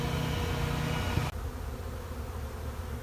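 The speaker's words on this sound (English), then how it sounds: "we got a lot of robber bees coming in to get any leftover honey" Robber honeybees swarm around an opened wall after a colony removal, their buzzing a dense steady hum that suddenly drops lower and thinner partway through as the sound source shifts.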